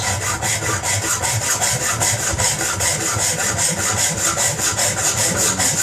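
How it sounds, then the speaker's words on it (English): Filing a Triumph Bonneville bottom-mount headlight mount part level by hand: a close, steady run of quick rhythmic rasping strokes that continues unbroken throughout, with no talking. "just a little bit of filing, get that down so it's nice and level all the way around"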